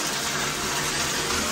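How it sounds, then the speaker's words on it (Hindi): Hot water running from a geyser tap, a steady continuous gushing flow, close and fairly loud, with no talk. "गर्म पानी जल्दी जल्दी छोड़ रहा हूँ देखो"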